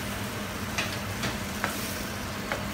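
Shrimp sautéing with shrimp paste in a pan, giving a constant close sizzle and crackle with faint occasional clicks of a utensil, and no talking.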